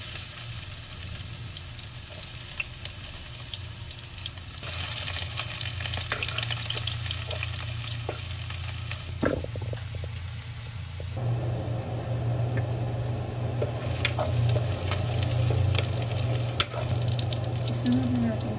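Steady sizzle of garlic frying in a little oil alongside sponge gourd in a pan, a continuous close crackle that shifts in texture as ingredients are added and stirred.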